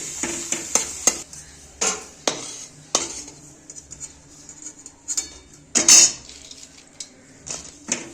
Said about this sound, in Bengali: পাঁপড়গুলো 2-4টে করে আমি এর মধ্যে ছেড়ে দেবো। ছেড়ে দিয়ে ভালো মতো করে পাঁপড়গুলো একটু লাল লাল করে ভেজে নেব।